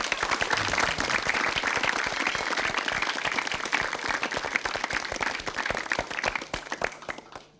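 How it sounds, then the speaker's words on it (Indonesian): Studio audience applause for a contestant on an Indonesian TV comedy quiz show, dense steady clapping filling the room for several seconds before tapering off at the end. "Ya tepuk tangan buat Mas Betet"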